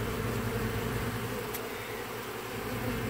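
A dense honeybee swarm buzzes inside a hive under removal in Bradenton, Florida, after the comb has been cut out, making a loud, continuous close-up drone with no voices.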